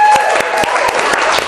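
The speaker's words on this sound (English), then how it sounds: "Clap it up." A small group claps in a session on body language, quick uneven bursts of hand claps close by with a few sharp individual slaps standing out, a voice briefly heard among them.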